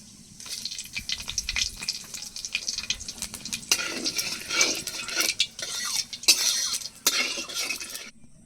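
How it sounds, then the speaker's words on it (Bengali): Cumin seeds and dried chili crackle and sizzle in hot oil in a pan, with bursts of sharp spitting and some stirring clatter, close and fairly loud, with no talking. "তেলটা গরম হয়ে গেছে, এবার জিরে ফোড়ন দিয়ে দেব।"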